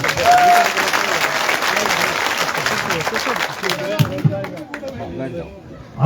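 Crowd at a village political rally in Hathin applauding loudly, dense clapping that carries for several seconds before thinning out, with chatter and voices mixed in.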